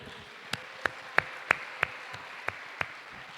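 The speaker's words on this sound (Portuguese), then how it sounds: "vamos aplaudir o Senhor?" At a Sunday evening church service, a few people clap in a slow, even rhythm, about eight distinct claps spaced roughly a third of a second apart, fairly close over a quiet room.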